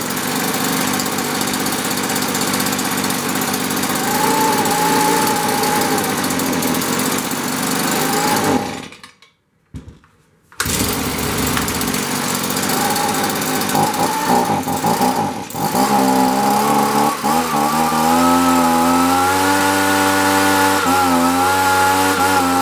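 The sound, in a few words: two-stroke leaf blower engine running fast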